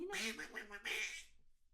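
A person's voice imitates a duck, giving nasal, buzzy quacks in two close bursts, loud and near, with nothing else around them.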